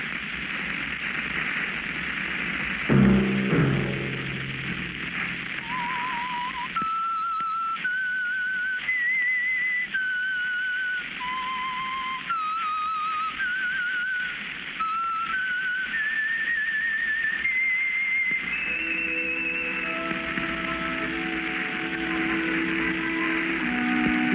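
The whistled theme of the old Signal Oil radio drama The Whistler, a lone, clear whistled melody of sustained notes stepping up and down over faint hiss, ending as a low orchestral figure enters.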